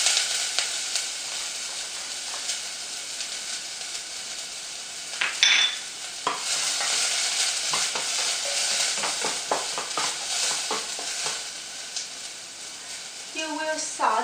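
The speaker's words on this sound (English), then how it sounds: "You will saute until the onion and the garlic brown." Garlic and onion sauteing in about a tablespoon of oil for a peanut sauce, a steady soft sizzle with scattered stirring scrapes and light clinks of a utensil against the pan.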